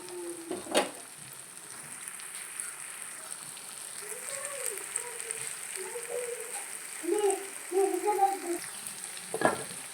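An egg tomato curry simmers gently in a pan, with a steady soft sizzle and bubbling throughout, a few louder spits and pops near the end, and a couple of brief knocks.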